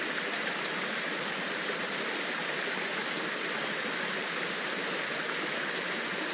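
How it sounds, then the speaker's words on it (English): A river valley stream flows with a steady, dense rushing and babbling of water, continuous and close, with no voices over it. "listening to the stream, listening to the kind of singing or the sounds of the water"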